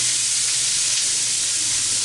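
Onions and a few tri-colored peppers sizzle in a hot pan, a steady, dense hiss that holds evenly throughout, close and fairly loud with no talking.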